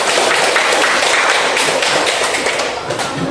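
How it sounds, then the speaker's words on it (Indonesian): A classroom of students claps hands together in a dense, fast, steady round of clapping, loud and close, fading slightly at the end. "tepuk semuanya"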